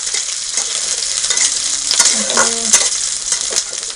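Chopped onions sizzle steadily in hot oil in a pan for a Indian matar sabji, with a spoon stirring and scraping now and then, a close, continuous frying hiss and no talk.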